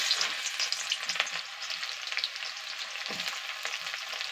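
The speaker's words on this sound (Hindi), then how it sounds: "एखन मुई प्याज पकौछे" Onions fry in a pan for an egg curry, giving a soft, continuous sizzle and crackle with occasional stirring sounds. The cooking is fairly quiet and close, with no talking.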